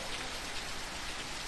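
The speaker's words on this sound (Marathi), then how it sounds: "खूपच जोरदार पावसाला सुरुवात झालेली आहे" Heavy rain pours steadily on open ground during a monsoon downpour, a dense, even hiss with no pauses and no talking.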